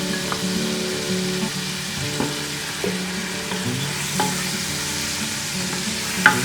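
Tomato paste and spices frying in a pan for a potato and capsicum curry, giving a steady close sizzle with light stirring scrapes and a sharper clink near the end.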